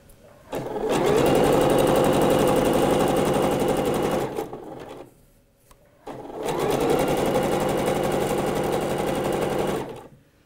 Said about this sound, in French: votre point zigzag, vous voyez, il passe à gauche du fil, à droite du fil